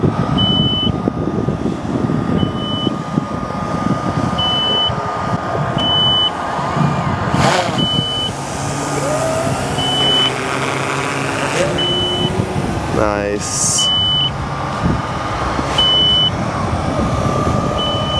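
A DJI drone lifts off from a DJI Dock 3, and its steady whirring hum sits over constant outdoor background noise, with a repeating electronic beep at regular intervals and a rising pitch sweep partway through; a voice speaks briefly.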